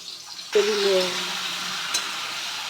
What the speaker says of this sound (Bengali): এরকম লম্বা করে আলু আর ঝিঙেটাকে আগে থেকেই কেটে ধুয়ে পরিষ্কার করে নিয়েছি, সেটা আমি ভেজে নেব